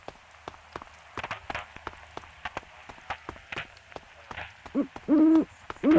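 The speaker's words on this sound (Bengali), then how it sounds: "এই আবার পাখিও ডাকে দেখি, পেঁচা পাখি মনে হয়" An owl hoots repeatedly in a GTA 5-style video game, starting at a moderate level and swelling into louder, closer calls near the end, with scattered rain-like tapping and soft footsteps in between.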